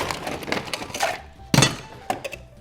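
Ice cubes tumble and clatter into a metal cocktail shaker for a peated whisky cocktail, a few sharp knocks and rattles, close by, with a quick burst of clinking in the middle.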